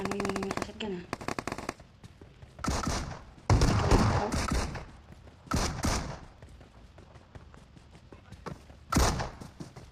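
Shotgun gunfire in the mobile battle royale game PUBG Mobile on the Erangle map, with several loud, sharp blasts spread irregularly across the clip, separated by quieter in-game sound.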